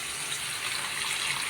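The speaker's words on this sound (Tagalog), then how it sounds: "Tandagan ng tubig para mas masabaw mga kamigs." Tap water runs steadily into a cooking pot for a Filipino balbacua beef stew, a continuous gushing pour with no talk.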